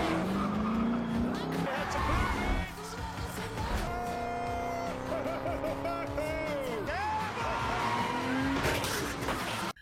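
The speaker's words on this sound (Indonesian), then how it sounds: "Saat mobil mulai melaju, Lucifer justru ketakutan karena Rory tidak sungkan untuk menginjak gas dalam-dalam." A car accelerating hard in a Lucifer film scene, engine revving and rising in pitch through gear changes, with tire squeal and dramatic film music and voices layered over the moderately loud driving.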